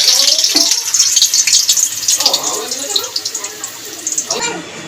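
Stuffed pointed gourd (potol) lowered into hot oil to fry, giving a continuous crackling sizzle that gradually softens, with a person talking over it.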